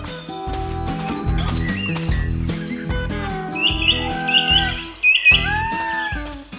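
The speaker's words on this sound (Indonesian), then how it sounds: "Sekelilingnya penuh dengan burung pikok yang warna-warni dan lucu sekali." Colorful little birds on a cartoon farm chirp in quick, high tweets that cluster in the second half, sounding over a bouncy background tune.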